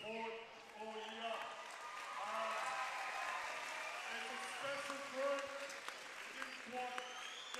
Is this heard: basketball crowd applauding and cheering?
yes